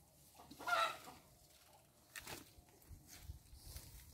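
A chicken clucks faintly outdoors near a forest by a house, with one louder burst of clucking followed by softer scattered calls.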